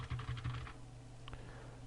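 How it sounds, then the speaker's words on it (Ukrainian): Short bursts of typing on a computer keyboard: a quick cluster of soft clicks, then a pause and a couple of isolated taps, faint over a steady low hum with no talk. "Який-небудь текст пишемо."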